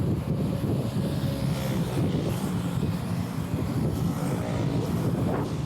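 Heavy wind buffeting the microphone during a motorcycle ride, a continuous low rumbling roar with constant gusty fluctuation throughout.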